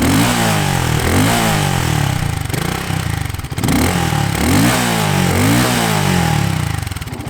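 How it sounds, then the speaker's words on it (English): A BSA Gold Star 650 single-cylinder motorcycle engine runs up close and loud, with repeated revs rising and falling over a lumpy, thumping idle. "It's a 650 single, so it's got that beautiful single cylinder sound."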